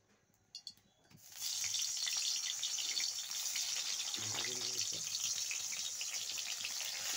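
White brinjal slices hit hot oil and fry with a loud, steady broadband sizzle that starts suddenly and holds, with a brief low clatter as pieces are stirred partway through.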